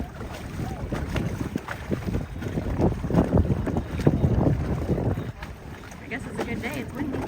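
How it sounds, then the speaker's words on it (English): Wind blows across open water while a small catamaran boat rides along, a rough, fluctuating rumble of gusts and splashing, with voices talking over it. "I guess it's a good day. It's windy."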